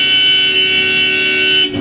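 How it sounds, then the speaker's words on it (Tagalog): Loud, steady car horn blast on a Toyota, held continuously for nearly two seconds before cutting off abruptly. "i-test natin yung horn mga kaibigan. Padinig natin sa inyo kung gaano kalakas."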